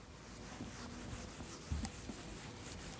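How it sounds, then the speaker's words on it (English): Writing is wiped from a board with soft, faint rubbing strokes in a quiet room, a few scuffs standing out. "I'm just going to erase this now."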